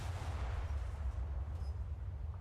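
Naval guns in a video game fire again and again, deep rumbling booms that roll on one into the next, loud and close with no talk over them.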